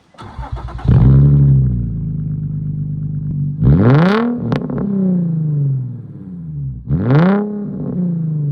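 A Nissan 350Z fitted with an Ultra Vibrant resonator exhaust revs loudly and close by, with sweeping pitch climbs at about 1, 4 and 7 seconds that settle back between them into a steady, throaty idle.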